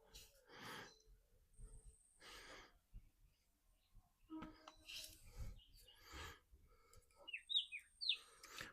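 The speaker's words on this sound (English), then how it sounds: "Different kind of bird right there." Scattered bird calls at a distance on a mountain at sunrise, short chirps and a few sharp whistled notes among soft breathy noises and quiet outdoor background.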